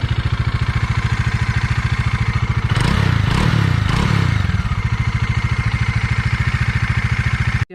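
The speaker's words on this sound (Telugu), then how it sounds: "Bajaj DTSI triple spark engine అనమాట ఇది" A Bajaj Dominar 400 motorcycle with a DTSI triple spark engine idles with a steady, close thrum, revs loudly in a few quick bursts for about a second and a half, then settles back to idle.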